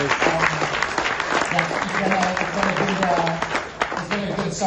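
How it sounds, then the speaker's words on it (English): A live audience claps in a sustained, dense round of applause at a business presentation, loud and close, with a voice briefly audible over the clapping. "round of applause to everybody"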